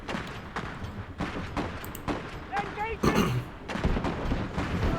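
Gunfire and artillery thump and crack in the real-time strategy game Iron Harvest, repeated booms and bursts at irregular intervals with a voice talking over the battle.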